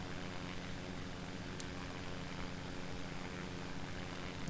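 A Pipistrel Panthera propeller plane cruises in X-Plane 11 with a steady, faint drone of engine and airflow that stays even the whole time.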